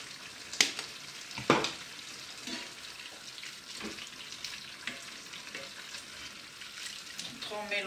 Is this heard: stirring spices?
yes